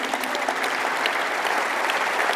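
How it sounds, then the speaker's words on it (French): An audience applauds during a speech, giving dense, sustained clapping at a steady level from start to finish with no voices over it. "Vous êtes les héros, applaudissez-vous."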